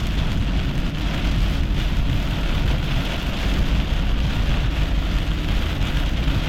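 Steady, loud rain pours down during a thunderstorm on a tornado chase, with a dense hiss filling the whole stretch and a low rumble beneath that may be thunder or a passing vehicle; no one speaks.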